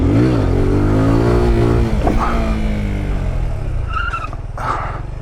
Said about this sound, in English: dump the clutch and pull up at the same time